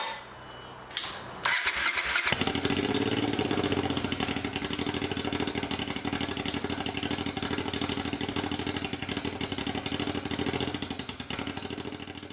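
A Honda NTV650 scrambler fires up with no dB killer in the exhaust. After a brief clunk and a starter whir, the raw engine catches and settles into a loud, steady, close idle that carries on to the end.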